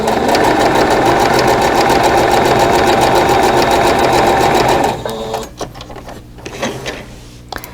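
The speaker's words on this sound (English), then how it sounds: "sew from corner to corner on that blue square" Sewing machine stitching fabric corner to corner across a blue quilt square, a loud, close, rapid mechanical whirr for about five seconds, then it stops and quieter handling clicks and rustles follow.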